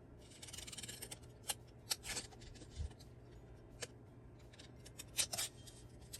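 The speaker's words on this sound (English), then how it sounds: "I'm going to cut it around until I like it." Scissors snip paper for a handmade paper clip embellishment, giving a series of quiet, crisp, separate cuts with short rustles between them. No one speaks.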